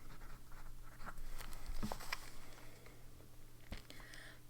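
A fountain pen loaded with Diamine Pansy ink scratches across paper in close, faint strokes, with small ticks and soft rustles over a quiet room hum.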